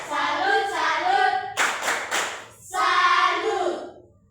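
Children in an Indonesian classroom chant the tepuk salut clapping game, with a loud burst of rhythmic hand claps in the middle between sung, chanted phrases.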